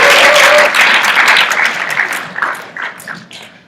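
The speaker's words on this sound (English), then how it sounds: "everybody give them a round of applause" A crowd at an evening student organization event applauds after a beatboxing performance, a dense wash of clapping that starts loud and gradually thins and fades over a few seconds.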